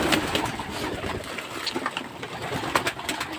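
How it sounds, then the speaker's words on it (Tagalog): Racing pigeons coo softly and repeatedly against a steady, hissy outdoor background, fairly faint and without talk. "Ayan nga, bali yun yung mga kalapatid"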